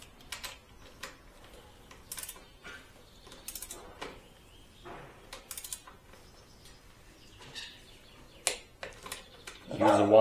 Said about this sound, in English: Then tighten the pinch bolts to a torque of 18 Newton meters.